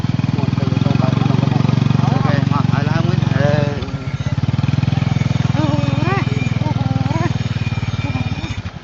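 A scooter engine runs steadily at close range with monkeys riding on it, a loud idling drone that briefly dips and then resumes, while a voice talks over it.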